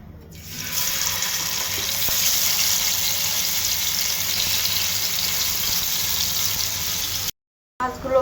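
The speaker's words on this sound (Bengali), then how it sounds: "মাছগুলো ভাজা হয়ে গেছে" Fish coated in chilli powder, salt and oil fries in a pan with a loud, steady hiss that cuts out abruptly near the end.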